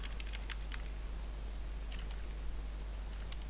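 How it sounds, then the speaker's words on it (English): Keys click on a computer keyboard in short, quick clusters of taps, faint and close, over a low steady electrical hum while a form field is filled in; no one speaks. "Let's type in servlet"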